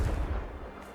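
The Confringo fire spell from Hogwarts Legacy goes off as one deep, booming blast that rumbles and fades over about a second.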